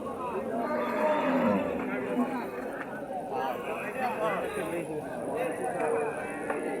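Dairy cows low and moo repeatedly at a busy cattle market, their calls mixed with constant crowd chatter and someone talking close by.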